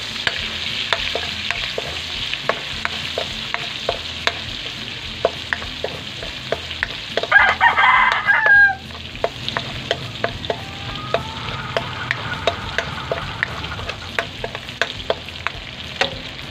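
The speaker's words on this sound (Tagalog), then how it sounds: "Tapos, sinugisa na tayo." Onion and garlic sautéing in a pan for pancit, a constant light sizzle broken by frequent sharp taps and scrapes of a utensil, with a brief louder burst of frying near the middle and no talk.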